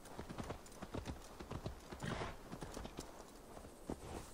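Rhythmic clip-clop of horse hooves in the video game Assassin's Creed Valhalla, a steady run of quiet hoofbeats with no talking.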